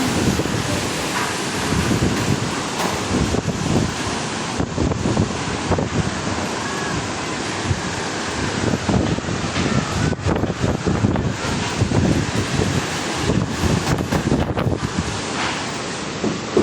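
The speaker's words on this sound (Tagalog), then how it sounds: "Lakas na ng hangin as in." Strong wind during a typhoon under signal number 2, a continuous rough roar buffeting the microphone with gusty surges, loud and close, no speech.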